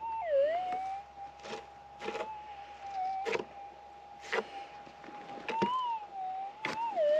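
A GPX 6000 metal detector holds a steady tone and warbles up and down as the coil passes over a small, shallow target in gold-prospecting ground, with several scraping knocks breaking in at intervals.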